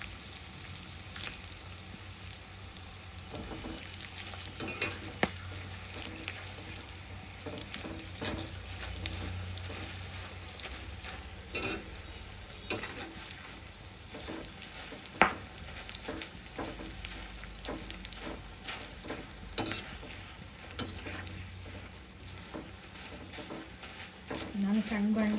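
Buttermilk-soaked chillies fry in hot oil in a small pan, giving a steady crackling sizzle with frequent stirring scrapes and pops throughout, while a person talks over the cooking.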